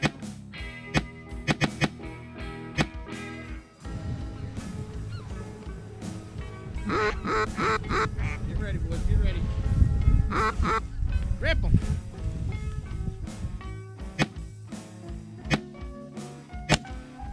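Ducks quack and honk repeatedly, loud and close, during a duck hunt, with overlapping calls and low rumbling and hunters talking throughout.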